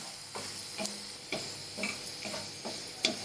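Garlic fries in a small amount of oil until reddish, a quiet soft sizzle punctuated by several light spatula clicks and stirs at irregular intervals, close and faint.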